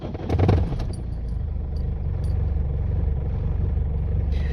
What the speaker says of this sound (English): first startup after injectors